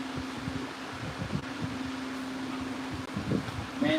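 An electric fan runs steadily indoors, a constant hum with a low tonal drone and airy whoosh, close and unbroken, with a few soft handling bumps near the end.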